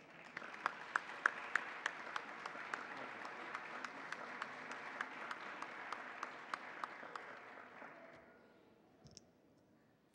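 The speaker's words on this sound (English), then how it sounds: "Please join me in a very warm round of applause for Christina and her work here in San Francisco." Warm audience applause at a San Francisco Latino Heritage civic ceremony, dense clapping from a sizable crowd with sharp individual claps standing out, steady for about eight seconds before tapering off to quiet.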